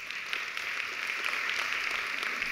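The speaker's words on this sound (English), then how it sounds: "Can we please have a round of applause for these panelists?" Audience clapping for panelists after a financing panel discussion, a steady wash of applause heard from a distance, even and moderately loud.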